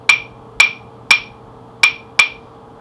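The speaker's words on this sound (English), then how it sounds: "So son clave, nice big sound, is going to sound like this." Hand-held claves play a son clave rhythm, five crisp, ringing wooden clicks in an uneven three-two grouping, close up and alone against a quiet background.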